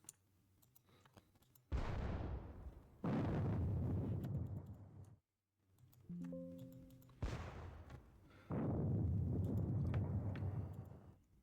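Artillery guns firing in a Battle of Gettysburg wargame, several deep booming blasts with long rumbling decays, separated by brief gaps and a short tonal chime, moderately loud with no speech.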